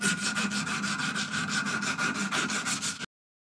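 A wooden tool handle is hand sanded with 240 grit paper in quick, even back-and-forth strokes, about five per second, close and clear, ending abruptly.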